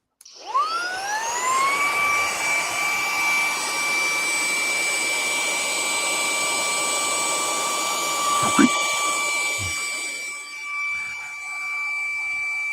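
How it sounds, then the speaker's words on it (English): A vacuum cleaner switches on and whines up to full speed, its pitch rising over the first second or two. It then runs loud and steady for about ten seconds before the tone shifts near the end. "Get the vacuum. It's going to get noisy."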